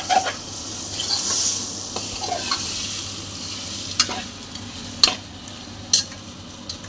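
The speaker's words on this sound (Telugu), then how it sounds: "మంచిగా పట్టుకొని దాన్ని కలపాలి, అంతా కలిసేటట్టు." Mutton curry being stirred in a sizzling pan, a utensil scraping and turning the meat over a steady frying hiss, with a few sharp clinks against the pan near the end.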